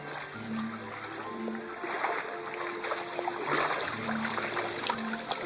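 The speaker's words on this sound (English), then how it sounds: "It's like there are currents in my barn." Floodwater from Hurricane Irene streams through a barn, a steady soft trickling and gurgling flow with faint splashes, heard nearby at low level under a constant background hum, with no voices.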